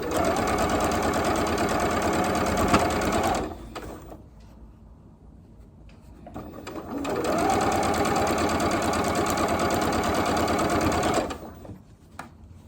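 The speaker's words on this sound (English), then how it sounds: "I am going to sew on the sashing side. And I'm using my 1/4 inch foot like I was before." A sewing machine stitches quilt sashing with a quarter-inch foot in two long, fast, steady runs, separated by a brief quiet pause and ending with a short stop, loud and close.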